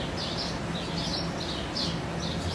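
Birds call in short, repeated chirping bursts over a dense, steady background hiss, the calls coming at a fairly regular rhythm and sounding moderately distant.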